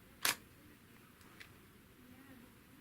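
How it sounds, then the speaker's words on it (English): Shutter of a Nikon D7100 camera closing when triggered by remote, a single sharp close click near the start, followed by a fainter tick and quiet room tone. "when you press the button again, it closes the shutter."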